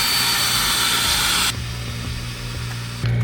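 A small power tool sands a car headlight lens with gray sandpaper, giving a close, harsh whirring hiss that drops to a lower motor hum partway through and then rises again at the end.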